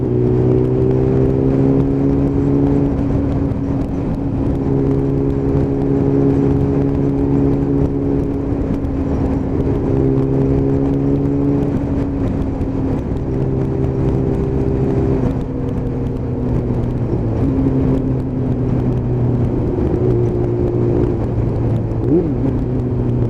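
A Kawasaki ZX7R motorcycle is ridden on dry roads, heard from on board. The engine drones loudly, climbing in pitch through repeated revs and gear changes, with steady wind rush underneath.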